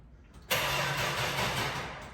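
A 1972 Dodge Dart engine cold-starts indoors, cranking briefly, catching with a sudden roar and settling into a loud, rough idle close by.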